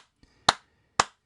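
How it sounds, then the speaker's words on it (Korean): Two sharp hand claps about half a second apart, close and crisp in an otherwise quiet room, preceded by a faint tap. "야, 박수 치자, 형들아."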